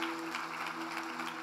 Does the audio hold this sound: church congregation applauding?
yes